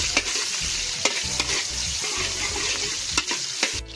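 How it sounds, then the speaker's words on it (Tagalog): Onions being stirred and fried in hot oil in a frying pan make a loud, continuous sizzle, broken by repeated scraping and stirring strokes of a utensil against the pan. "Lagay na natin sibuyas. Ihalo-halo lang natin hanggang sa matamis-rosy."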